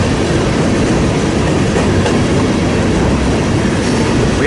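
A freight train hauling tank cars passes on the Fort Wayne Line: a loud, nearby, unbroken rumble with wheel clatter and faint rail squeal, and no voices.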